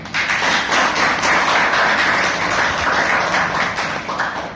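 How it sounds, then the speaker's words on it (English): Audience applause at a Toastmasters club meeting: a dense, steady patter of many hands clapping at once, loud and continuous, tapering slightly near the end with no talk over it. "Let us give a big round of applause."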